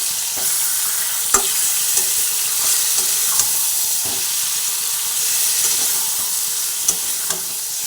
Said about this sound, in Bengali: নাড়াচাড়া করে ওপর মিক্স করে নিলাম